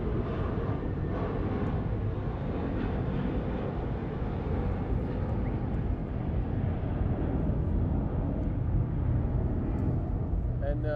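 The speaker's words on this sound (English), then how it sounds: "we just caught the tail end of the Delta A330neo coming in from Haneda, Japan" A Delta Airbus A330neo airliner arriving at Los Angeles airport makes a distant, steady rumbling roar that stays broad and even throughout.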